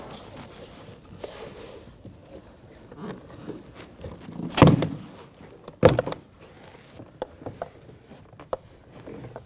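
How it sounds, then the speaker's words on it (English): A plastic door panel is pried off a Nissan Armada front door: scattered scraping and rubbing, then two sharp pops as clips release, with light taps and clicks after. "We're going to pry onto the door and we're going to work our way up."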